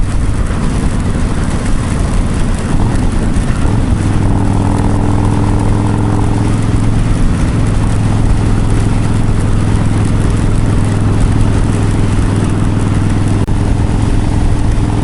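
A motorcycle ridden in the wet on a test ride, a loud continuous engine drone with a steady low hum and shifting tone, mixed with constant wind and road noise, no speech.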